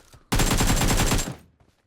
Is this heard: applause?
no